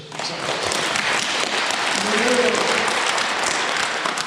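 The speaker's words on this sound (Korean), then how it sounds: "이거 박수 한번 주세요." A Catholic parish audience at a history lecture claps in a steady round of applause that swells slightly and holds for several seconds, with a voice briefly heard partway through.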